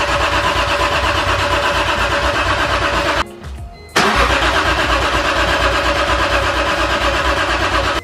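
A BMW E46 M3 engine, freshly installed, cranks and catches, then settles into a loud, steady idle close by. A brief gap follows as it stumbles or is shut off, and it fires again and runs on strongly.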